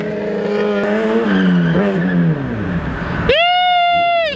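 Chevette car drifting with tyres squealing, engine roaring and rising in pitch, then a sharp sustained tyre screech near the end, loud and close.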